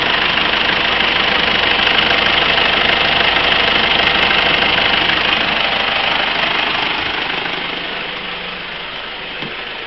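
A Mitsubishi Strada 3.2 liter engine fitted with an HHO generator idles steadily with a constant rumbling drone, loud and close, easing off slightly toward the end.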